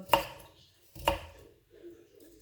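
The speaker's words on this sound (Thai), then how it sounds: "ขอตัวหั่นก่อนแป๊บนะคะ" Two sharp knife chops on a cutting board about a second apart, close and distinct, followed by a faint scrape.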